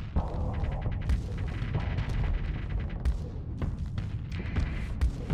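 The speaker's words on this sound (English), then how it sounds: "We're just shooting our guns." Ship weapons firing in the space combat game Starsector, a continuous barrage of booming, thudding shots and rapid bursts layered densely over a low rumble, steady and loud throughout.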